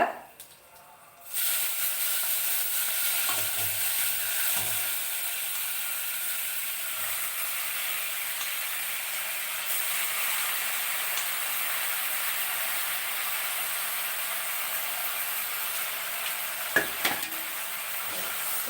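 Steady broadband sizzling of chukka kura (sorrel greens) frying in a hot pan of tempering, with a few soft stirring knocks early on and near the end.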